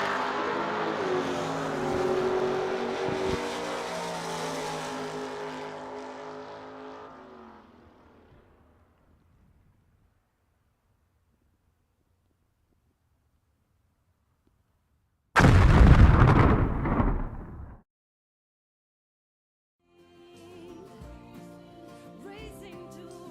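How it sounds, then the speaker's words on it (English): Dragsters in the 450 class launch at a drag strip: one car's engine roars loudly and fades into the distance, then after a pause a second sharp, loud burst of engine noise cuts off abruptly, followed by more distant crackling revs. "450 dragsters to the lanes"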